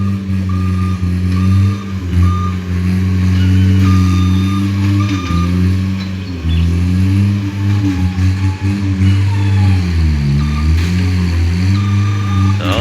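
A heavy diesel engine of a Bobcat SR130 skid steer loader drones steadily up close, its pitch dipping and rising as the throttle changes, with faint clanks and beeps behind it.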